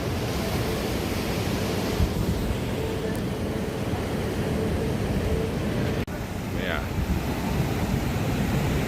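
Sea surf at a backwater estuary mouth where lagoon meets ocean roars in a continuous broad wash, mixed with wind buffeting the microphone, loud and steady throughout.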